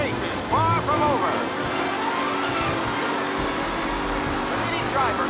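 Race cars roar and whine past in the Mafia Definitive Edition game, a mid-pitched engine drone with rising passes and tire squeals, heard under a commentator's talk.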